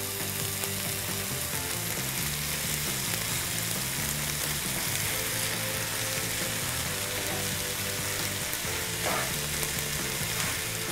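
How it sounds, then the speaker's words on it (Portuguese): Rice with bananas and meat is stirred in a frying pan, a steady close sizzle with the scrape and clatter of a utensil moving through the food, no talking. "E agora nós vamos mexer."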